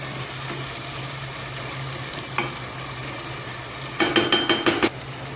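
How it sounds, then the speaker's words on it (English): Chicken for dum ka murgh sizzles steadily in a pan over a high flame, with a closer burst of quick spoon-on-pan scraping and clatter near the end. "Just cook it for a couple of minutes in high flame so that the meat will remain tender."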